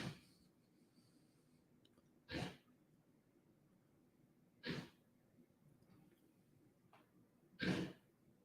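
Three short, sharp hacking bursts spaced a couple of seconds apart, like a dog coughing nearby, with quiet background in between.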